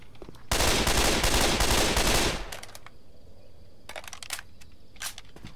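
SCAR rifle fire in a Left 4 Dead 2 weapons mod: a loud, dense automatic burst of nearly two seconds, followed by a few sharper single shots spaced apart against quieter game ambience.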